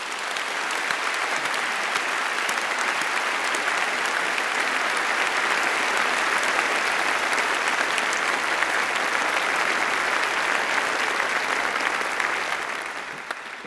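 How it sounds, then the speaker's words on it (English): Audience clapping at a Faculty of Medicine graduation commemoration ceremony, a broad, sustained roll of applause from a large crowd in a hall, steady for about thirteen seconds before tapering off. "Please join me in giving them a huge round of applause."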